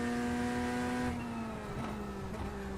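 Race car engine in the iRacing sim, a car likened to the Ferrari 296: a steady, droning engine tone that holds and then shifts pitch slightly, fairly quiet and heard alone.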